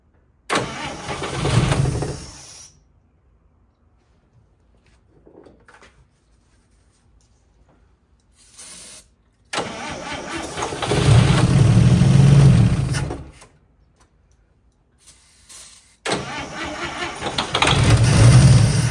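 A 1955 Chevy engine, parked for decades, cranks in several separate attempts, each burst of grinding starter noise catching briefly with a rough rising engine note, broken by quiet pauses.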